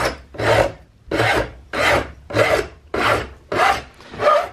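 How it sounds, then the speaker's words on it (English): A hand file rasps away excess hardened epoxy on a rifle buttplate during a CVA Hawken build, with seven steady, evenly spaced strokes heard up close and nothing else over them. "after a couple minutes filing here, we're down to really getting into where we're cleaning this up"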